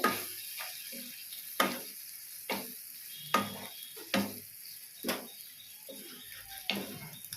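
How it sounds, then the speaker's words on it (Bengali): A prawn curry with its spice mix fries in a pan under a steady soft sizzle, broken by about ten spaced scraping strokes as it is stirred, close and moderately quiet. "ভালো করে নাড়তে হবে।"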